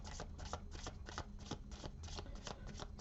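Fairies Oracle cards being shuffled by hand, a steady run of crisp riffling flutters repeating about every third of a second, close and fairly quiet, with no talking over it.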